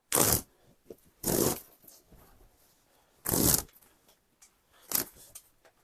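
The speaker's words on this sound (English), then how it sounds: "tear them right off." Thread being torn off a quilt on a longarm quilting machine, with four loud, close ripping bursts separated by pauses and a few faint rustles between them, no talk.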